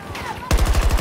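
Rapid assault rifle fire from the Battlefield 2042 video game bursts in halfway through, a loud, fast string of close shots after a quieter stretch.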